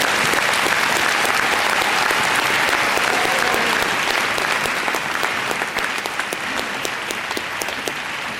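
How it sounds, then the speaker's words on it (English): A graduation audience at Riverside's 2017 ceremony breaks into sustained, loud applause, with dense clapping from a large crowd filling the hall steadily for the whole stretch before easing slightly near the end. "Please join me in a round of applause."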